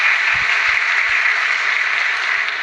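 A large hall audience applauding Prime Minister Modi's speech in Russia: dense, sustained clapping at high volume, steady throughout with no voice over it.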